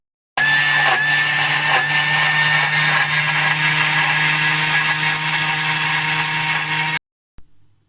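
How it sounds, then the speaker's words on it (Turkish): Thermomix food processor blending sugar with grated lemon zest at high speed for about ten seconds, a loud steady motor whir that holds evenly and then cuts off abruptly, with a brief clatter afterward. "Thermomix'te yapıyoruz. Şekeri ve limon kabuğu rendesini koydum. Hız göstergesini ona ayarlayalım. 10 saniye çekelim."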